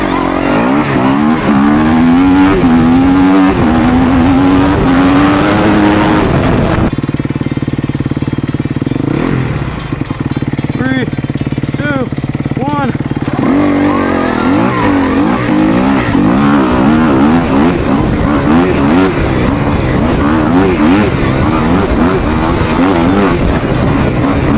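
Surron Storm Bee electric dirt bike racing from a standing start, a loud continuous motor whine rising and falling in pitch with wind noise, steady and close throughout with a brief quieter stretch midway.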